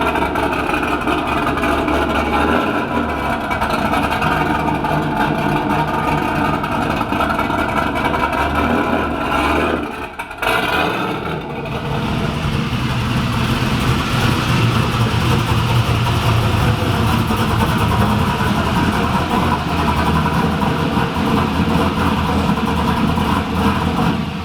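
A Corvette Z06 engine rumbles steadily while the car is driven into a garage, loud and close, with a short dip in the middle before the idle and revving pick back up, no talk.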